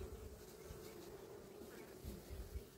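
Dense honey bee buzzing around a crowded hive from a strong colony, a continuous faint drone with occasional nearer passes swelling briefly.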